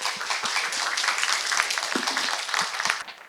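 Audience clapping to welcome a speaker at a Korean health lecture, a dense, lively round of applause from a sizable crowd that holds steady and then tapers off at the end.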